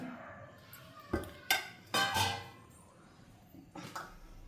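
Peanuts tipped into a pan with melted butter while cooking, a few quick rattling scatters against the metal followed by quieter settling clicks, close and moderately loud.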